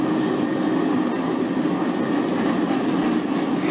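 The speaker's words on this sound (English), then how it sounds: "we are a 6 express train" A simulated NYC 6 express subway train runs in the OpenBVE train simulator, a loud, steady rumble of wheels and motor with faint high clicks and no talk.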